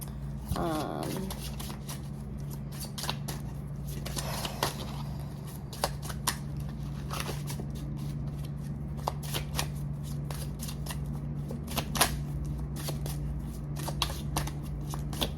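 A deck of slippery gold-foil oracle cards is shuffled repeatedly up close, with quick riffling flutters and soft clicks in an irregular rhythm over a low steady hum.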